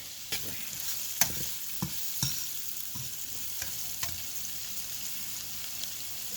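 Green seasoning stirred in a pot while it sizzles steadily, close up, with a spoon scraping or knocking against the pot every second or so over the constant frying hiss.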